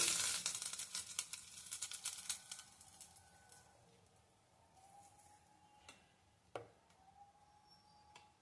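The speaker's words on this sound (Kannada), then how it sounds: "ಈಗ ಸ್ವಲ್ಪ ಒಗ್ಗರಣೆ ಕೊಟ್ಕೊತಾ ಇದ್ದೀನಿ." Spices tempering in hot oil for a chutney: a dense crackling sizzle at first that thins out into a quiet hiss with a few sparse, sharp pops, fairly faint and with no talking.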